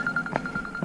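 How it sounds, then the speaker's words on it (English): A phone rings faintly during a bikepacking ride at Wilsons Prom, giving a quick string of soft, evenly pulsed electronic beeps over low outdoor noise. "phone's ringing"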